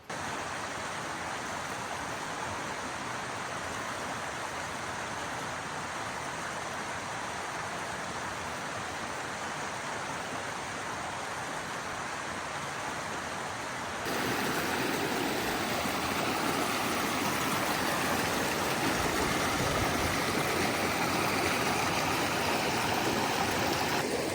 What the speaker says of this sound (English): Well, I am right next to a river.